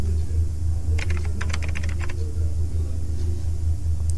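Rapid keystrokes on a computer keyboard as a password is typed, a quick cluster of clicks over a steady low hum, then quiet.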